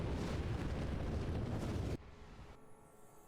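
Loud, sustained rumbling explosions from the video game Dragon Age: Origins fill the first two seconds, then cut off abruptly to a quieter low background with faint crackling.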